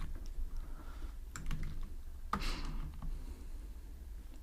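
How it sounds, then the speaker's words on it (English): Fingers tap a computer keyboard in short, light bursts of clicks against a low steady hum, close by and unaccompanied by speech. "I'm gonna put a comma, and here I will type node database"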